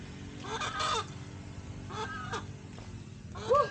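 Chickens cluck in a group at close range, several short bursts with one louder squawk near the end, over a steady background hum and no talk.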